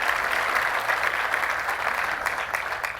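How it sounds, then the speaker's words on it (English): A large audience at the U.S. Conference of Mayors applauds steadily for three seconds, a broad, even wash of many hands clapping at moderate loudness, with no speech over it. "Why don't we give them a round of applause for this incredible event?"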